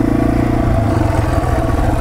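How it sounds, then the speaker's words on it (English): A Yamaha TW200 motorcycle engine braking while descending a loose downhill trail, with a loud, close, steady low engine drone and rhythmic pulsing throughout, no talking. "Light on the brakes, engine braking power."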